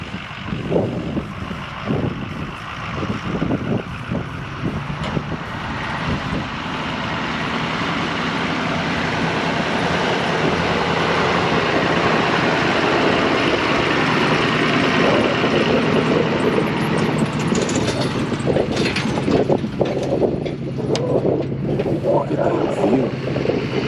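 A big red Ford truck at a Montana vehicle storage spot rumbles steadily as it is pulled over and parked, a loud continuous engine drone lasting throughout with some clatter and voices intermittently underneath.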